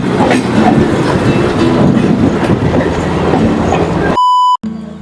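Adra–Barkakana MEMU special train (08641) running on the tracks, with loud continuous rumble and rhythmic clickety-clack of the wheels, ending in a short electronic beep.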